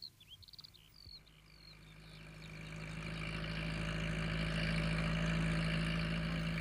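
A farm tractor engine rumbles steadily in a rural lane, starting faint behind a few bird chirps and swelling louder as it draws near, ending as a close, continuous drone with no talking.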